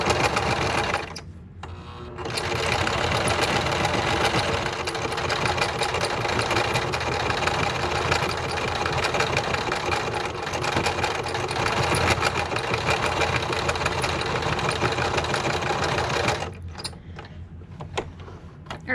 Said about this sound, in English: I'm going to go ahead and switch to a straight stitch just to reinforce it